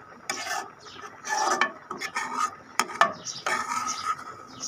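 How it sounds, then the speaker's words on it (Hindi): A spoon scrapes and knocks around a pot of thickening green-tinted mixture, irregular rasping strokes and light clinks repeating at close range without speech. "इसको चम्मच से हिलाते रहें ताकि ये नीचे ना लगे।"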